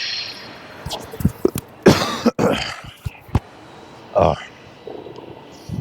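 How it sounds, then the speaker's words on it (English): Several short, harsh coughs and throat-clearing bursts, close up, spaced irregularly with brief pauses between them. "Still got a weird cough."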